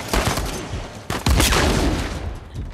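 Rapid gunfire bursts from a shootout in the video game Uncharted 4, a dense, loud volley of shots with a sharp burst partway through and steady firing after, with no talk.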